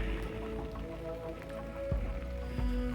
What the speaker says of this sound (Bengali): কন্টিনিউয়াস বৃষ্টি পড়ে যাচ্ছে।